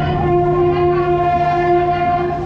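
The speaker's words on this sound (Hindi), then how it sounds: "पूजा एक्सप्रेस अपनी जो है वो आ चुकी है, इसी ट्रेन में हम जाएंगे" The Pooja Express passenger train, running Delhi to Jammu, pulls into a station, sounding a loud, sustained tonal horn over a low rumble that fades slightly at the end.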